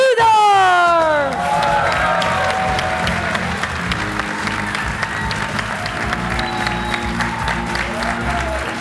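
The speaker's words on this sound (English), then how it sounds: "A big applause to Clarence Seedorf!" A live audience at a football legends talk event applauds loudly and continuously, a dense wash of clapping with crowd murmur underneath that holds steady throughout.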